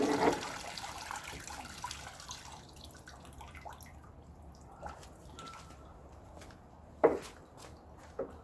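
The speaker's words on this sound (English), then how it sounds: "I'm just going to rinse it off." Water rinsing out an Ice Barrel 300 cold plunge tub, with a hissing splash at first that thins into scattered drips and trickles and one sharper splash near the end, close by and with no talking.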